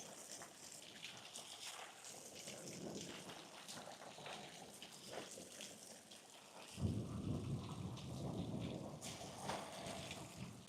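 A thunderstorm with rain hits outside a garage threatened by flooding: quiet steady rainfall patters for several seconds, then a low rumble of thunder rolls in and lingers under the continuing rain.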